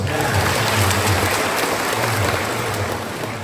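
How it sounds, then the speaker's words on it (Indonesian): An audience claps for the architect at a church dedication, a dense, steady burst of applause that continues without a pause for several seconds. "Kita berikan aplaus."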